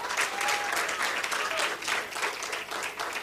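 A hall audience at a nursing induction ceremony breaks into full, dense applause that stays loud and even throughout, with a faint murmur of voices underneath.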